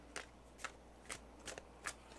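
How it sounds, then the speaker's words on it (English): Tarot cards being shuffled, five short papery riffling bursts at a steady pace, close and fairly quiet, with no talking. "we'll go one more shuffle and then one off the top"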